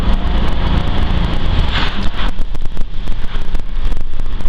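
A 2006 Ford Crown Victoria P71 Police Interceptor with 176,000 miles sits running, its engine a steady low rumble up close, partly buffeted by gusty wind noise across the microphone.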